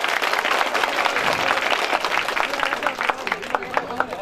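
Audience applause at a school gathering honouring a prime minister in a village area, a dense wash of clapping that continues throughout with sharper individual claps standing out near the end, voices mixed in under it.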